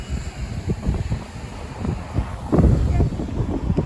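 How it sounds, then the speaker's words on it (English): Strong wind buffets a microphone outdoors on a small-town walking tour, with loud uneven gusts and rumbling bursts throughout. "The wind's brutal."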